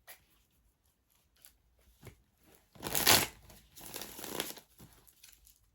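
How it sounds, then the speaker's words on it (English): Close-up papery riffling and crinkling of tarot cards being shuffled, a few soft taps first, then two louder bursts of shuffling. "I love shuffling cards."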